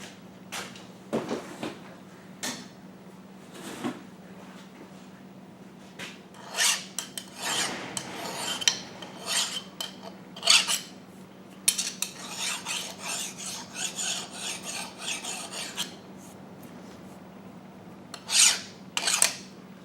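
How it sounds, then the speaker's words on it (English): Hand file rasping along the edge of a metal part to deburr it during a milling machine repair, with irregular scraping strokes in short bursts that grow busier toward the end, close and fairly quiet. "I'm going to take and deburr that edge."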